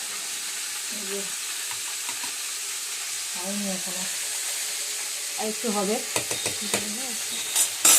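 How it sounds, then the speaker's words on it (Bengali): Cauliflower sizzles steadily while being fried and stirred in a pan, a constant close hiss with occasional scrapes, as someone talks intermittently over it. "এই যে ফুলকপিটা ভাজছি"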